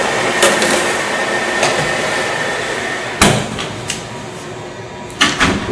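A steady kitchen hum runs throughout, broken by a sharp solid thud partway through as a Cres Cor QuikTherm oven door shuts, and a couple of softer clunks near the end.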